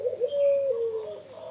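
A spotted dove (tekukur) gives a single soft, low cooing call, close and clear against a quiet background.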